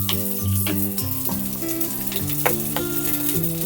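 Dried chili and chopped curry leaves frying in oil, a loud crackling sizzle with rhythmic spatula strokes scraping the pan throughout.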